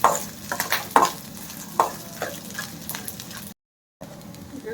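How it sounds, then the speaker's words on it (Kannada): Chicken gravy masala for a Kerala chicken gravy sizzles in a pan while a spoon scrapes and stirs in quick, uneven strokes, then briefly goes silent near the end. "ಇದು ಫ್ರೈ ಆಗ್ತಾ ಇದೆ,"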